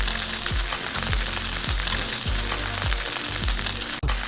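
Branzino fillets fry skin side down in a hot pan, a steady loud sizzle with regular soft taps roughly every half second, and no voices.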